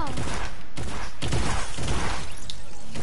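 Loud bursts of video game gunfire, several rapid cracks and shattering impacts in close succession, dense and near for the whole stretch.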